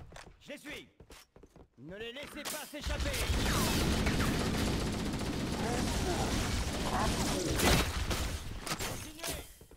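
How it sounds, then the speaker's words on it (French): Needler explosions and gunfire from the video game Halo Combat Evolved Anniversary. A voice talks briefly at the start, then a dense, loud, continuous barrage of blasts and shots fills the rest. "Les explosions de Nidler. Ça fait mal."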